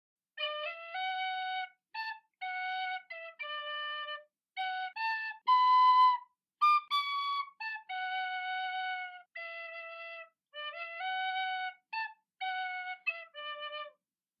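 A solo tin whistle plays a gentle, lilting tune, clear, bright notes with brief pauses between phrases.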